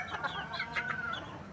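Gamefowl hen, a full spark gray, clucking in a breeding pen alongside a golden boy rooster, with short repeated clucks and calls close by, alone without talk.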